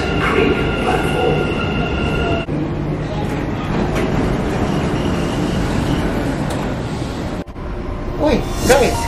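A train rumbles steadily close by at a Dubai Creek station platform with a continuous roar and faint clatter, interrupted by sharp dropouts, as an announcement voice speaks over the noise.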